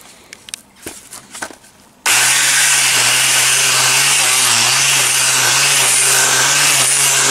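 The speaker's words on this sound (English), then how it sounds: "Just get the sander a minute and I'll just sand that before they come out." An electric sander working on wood starts abruptly after about two seconds of quieter handling noise, then runs loud and steady with a slightly wavering hum for the rest of the clip.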